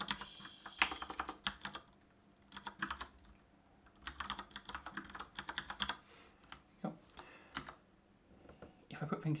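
Fast, irregular clicking of a computer keyboard while code is being typed, close up and steady across the whole stretch, with brief pauses between bursts of keystrokes.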